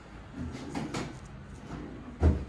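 Deep drawers in a hotel deluxe studio at a Disney resort slide open and shut, a few soft wooden rumbles and knocks ending in a firmer thump, close and moderately loud with no talking.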